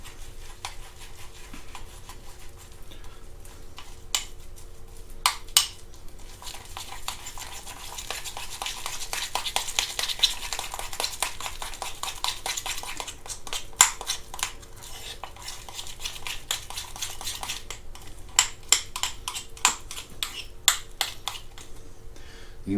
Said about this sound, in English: And the more I mix it, the thinner it's going to get.